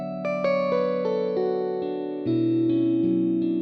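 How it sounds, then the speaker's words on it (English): An electric guitar, a Kontakt sample library, plays slow sustained notes and chords, heavily processed with chorus and echo, ringing out clearly with no talking. "guitar sound"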